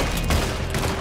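A quick burst of gunfire rings out in Red Dead Redemption 2, several close, sharp shots in rapid succession over a dense background of game noise.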